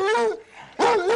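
A hound whines in rising and falling tones, stops briefly, then lets out another drawn-out whimpering bark, close and fairly loud, with no one talking.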